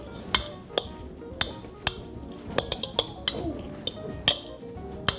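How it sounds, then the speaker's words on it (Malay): Hot boiled potatoes being mashed for chicken bergedil give a series of sharp metallic clinks and taps of utensil against pot, about a dozen irregular strikes close by with soft squashing between. "Okay, jadi yang ni tengah panas-panas macam ni kita lenyekkan terus supaya dia senang nak gaul."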